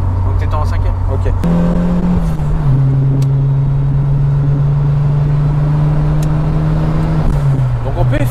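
Renault 21 Turbo running on ethanol accelerates to overtake, the engine drone climbing in steady pitch from inside the car, with people talking over it.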